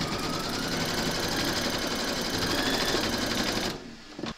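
Embroidery machine stitching a placement outline on hooped fabric for a skeleton applique, a loud, close, rapid steady whirring chatter that stops abruptly near the end.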